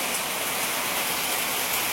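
Steady dense rain drumming hard on a tin roof, a continuous hiss-like roar with no pauses, fairly close and loud.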